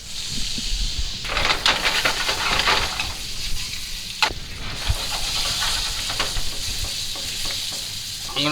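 Meat sears in hot oil in a pan with a steady, close sizzle and hiss, broken by a few sharp crackles and the scrape of stirring.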